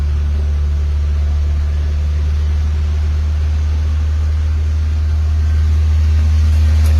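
A Toyota Vios engine idles roughly at high RPM, giving a loud, steady, close-up drone that swells slightly toward the end with no talk.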